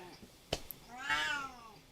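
A Siamese cat gives a single drawn-out meow close by, preceded by a short sharp sound, quiet overall with speech nearby.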